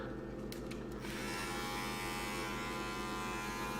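An Amazon DSP electric shaver from a bundle with a clipper and trimmer runs steadily with a loud, close, continuous buzz and hum.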